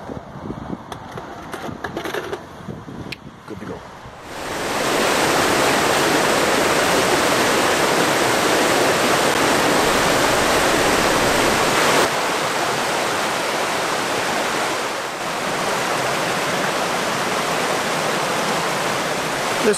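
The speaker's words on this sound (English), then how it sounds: "You're treated to some cool waterfalls, little running rapids, babbling brook as you make your climb up." Waterfalls and a babbling brook along a forest trail in southern New England, a loud, continuous rushing roar of falling water that swells in after a few seconds of quieter outdoor sound and then holds steady.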